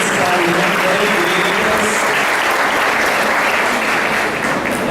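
A church congregation at Sunday morning Mass claps steadily and loudly for several seconds, a dense, even wash of applause with faint voices underneath.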